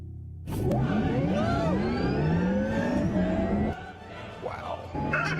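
A Porsche sports car pulls away hard from close by at a sports car gathering. The engine revs loudly with rising whines through several gear changes, eases off briefly, then surges again, with a voice heard faintly over it.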